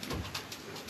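Racing pigeons coo softly inside a pigeon loft, a few low rolling calls close by with faint background rustle.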